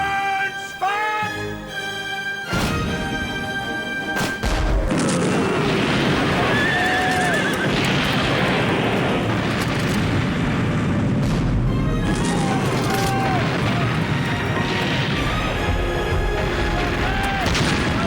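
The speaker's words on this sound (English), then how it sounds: "Alternate guns, fire!" Shipboard cannon fire a broadside in a dramatized naval battle, a heavy boom and sustained roar of gunfire, mixed with horses whinnying and clattering and shouting voices.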